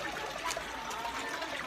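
Water trickles and bubbles among the rocks at Lumanoy Beach in Lila, Bohol, a soft, steady gurgle with a faint hiss that holds throughout at low level, with no talk over it.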